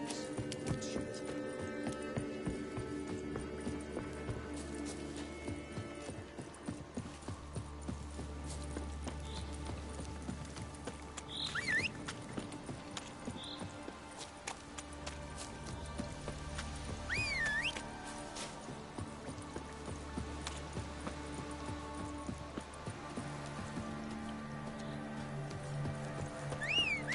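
Roach, a horse in The Witcher 3, clip-clopping along with steady hooves, whinnying briefly a couple of times, over game music and ambient sound.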